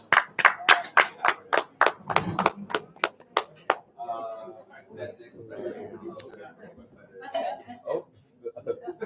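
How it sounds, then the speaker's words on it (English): A small group gives a round of applause at a school STEM event, about a dozen crisp, close claps in quick rhythm lasting a few seconds, followed by chatter and light laughter. "Can we give a big round of applause to Mr. Lewis as well for helping us with this event as well?"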